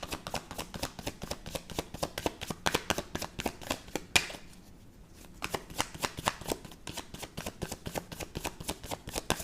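A deck of tarot cards is shuffled close up in rapid riffling bursts, a fast papery flutter that pauses briefly midway before resuming.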